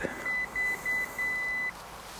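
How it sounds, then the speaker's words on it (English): A 2018 SsangYong Rexton gives three electronic beeps in a quick series as the tailgate opens, close and clear over a faint background hum. "you just have to wait a little bit and then the boot will open. Here we go, beep beep beep."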